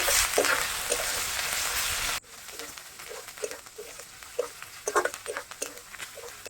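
Onion paste sizzles loudly in a pan, then the frying quiets abruptly to a softer crackle with scattered stirring taps and scrapes.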